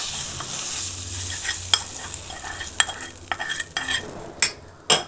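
Fried brinjal is stirred into gojju in a pan, giving soft scraping and faint sizzling, with a few sharper clinks of a spoon against the pan near the end and no talk.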